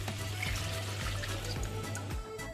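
Water is poured into a pan of rinsed rice frying in olive oil with garlic, onion and porcini mushrooms, a steady close pouring rush lasting throughout.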